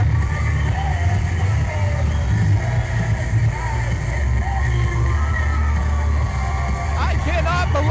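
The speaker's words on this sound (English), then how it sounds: "This crowd is going nuts." Wrestling event crowd roaring continuously, a dense loud wall of cheers, yells and whoops from a packed arena, with a commentator talking over it.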